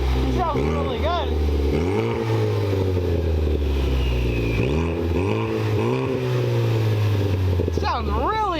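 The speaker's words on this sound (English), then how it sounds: "So we'll start up the car for you now" A car engine breathing through a newly installed exhaust is revved repeatedly: a steady low idle rises and falls in several throaty surges, with a loud, continuous rumble throughout.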